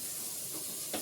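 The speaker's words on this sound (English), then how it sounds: "My water is now boiling" Water boils in a pot on a kitchen stove with a steady hiss and faint bubbling, plus one soft knock near the end.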